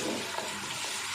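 Boiled beef is added to ginger and garlic frying in a karahi, giving a loud, continuous, close sizzle with no voices.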